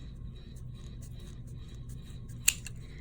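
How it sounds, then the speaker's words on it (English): Scissors work at a reptile shipping package close by, giving faint scraping snips over a low hum, then one sharp loud snip near the end. "I don't think these scissors are gonna do."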